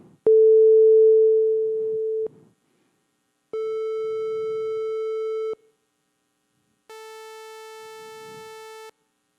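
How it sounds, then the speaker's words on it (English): Three sustained synth tones at the same pitch in turn, each about two seconds with gaps: a pure smooth sine wave, a slightly brighter triangle wave, then a harsh buzzy sawtooth wave. "I'm going to play for you a sine wave, followed by a triangle wave,"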